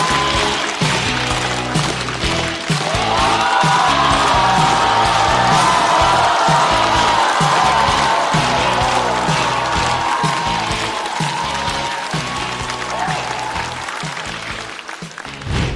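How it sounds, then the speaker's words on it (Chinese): Loud, dense applause from a stand-up comedy audience as the comedian is introduced, sustained clapping with cheers and whoops rising in the middle and slowly thinning toward the end, heard up close. "掌声有请，二哥。"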